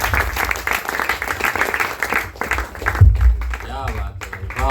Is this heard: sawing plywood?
no